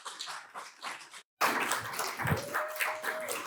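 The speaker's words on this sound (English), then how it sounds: "Can we get another round of applause for the award winners?" An audience at a poetry event claps for award winners, scattered hands at first, then after a brief gap a fuller burst of close applause continues steadily.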